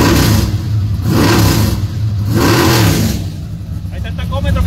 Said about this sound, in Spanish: Ahora sí lo voy a acelerar un poquito.